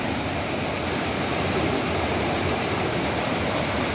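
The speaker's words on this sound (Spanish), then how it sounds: "el río creció bastante y tiene muchas corrientes" A river swollen after heavy rains rushes with strong currents, a loud, dense, unbroken roar of flowing water that holds steady throughout with no voices.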